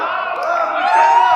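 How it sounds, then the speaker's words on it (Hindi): A brief, sustained roar of cheering and whooping voices rises from the crowd at an Urdu poetry gathering in Dubai, a loud, continuous swell lasting just over a second. "उनके लिए भरपूर तालियां हो जाएं।"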